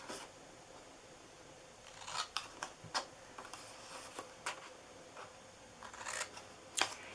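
Scissors snipping through paper while cutting out an Easter treat box, heard as a series of crisp, irregular close-up snips with short pauses between them and no talk.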